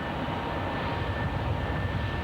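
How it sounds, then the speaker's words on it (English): Marine One, the presidential helicopter, spooling up at an inauguration departure: a steady, loud turbine whine with a thin high tone over dense low engine rumble, continuous and close. "And hear the helicopter noise. The engines begin to whine now."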